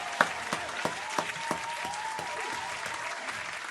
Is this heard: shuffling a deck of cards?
no